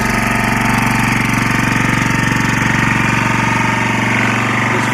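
Lombardini 6LD260 diesel engine idling after a cold start, having sat unused for ten years: a loud, steady, close rhythmic knocking chug that holds an even pace throughout.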